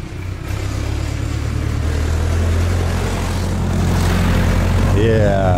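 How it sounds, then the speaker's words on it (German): A tractor rumbles past on a rural road, its low engine drone building steadily and growing louder as it draws near, with voices talking briefly at the end. "wir müssen mal kurz den Traktor hier vorbeilassen"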